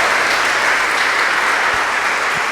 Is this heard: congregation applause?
yes